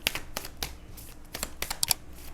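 A deck of tarot cards being shuffled by hand, with a run of crisp riffling and flicking bursts in uneven rhythm, heard close and alone with no voices.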